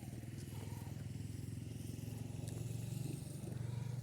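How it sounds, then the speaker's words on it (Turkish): A motorcycle rides away, its faint, steady low engine drone pulsing evenly in the distance, alone and quiet. "Motorla gidiyor."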